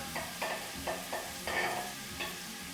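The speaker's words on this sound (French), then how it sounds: "Je vais mélanger un coup." Celery sizzling in a pot of white bean soup while being stirred, heard as a steady frying hiss broken by repeated scraping strokes of the spoon, close and alone.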